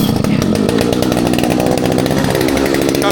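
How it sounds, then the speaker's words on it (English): A loud, buzzing two-stroke engine runs continuously with a rough, rattling tone, like a chainsaw that has just fired up and is idling close by. "pull it till you feel some resistance. So it's like a chainsaw."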